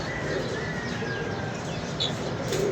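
Pigeons cooing and calling outdoors amid a pigeon-flying session, with steady ambient noise and wind throughout, a brief chirp near the end.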